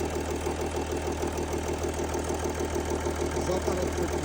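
A 3-litre Mercedes OM642 diesel runs with a steady mechanical knock, a rapid even tapping over a low, constant idle drone heard up close, with a voice talking over it.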